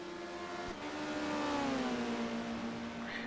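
Racing touring cars at Dijon in 1990, including an Audi, roar past with a steady, loud engine drone whose pitch slides gradually downward as a car accelerates and passes, with no talk over it.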